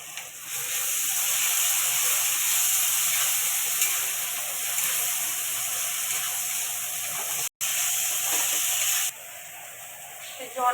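Spices (chili powder, turmeric, salt) frying with water in a pan for dal fry, a steady loud sizzle and hiss with occasional stirring scrapes, one brief cut near the end.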